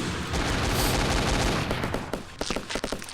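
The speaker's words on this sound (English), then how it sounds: "yeah, shooting my dead body, congrats" Dense automatic gunfire in the shooter game Base Wars, a loud continuous burst of rapid shots that breaks into separate sharp cracks toward the end, with no talking.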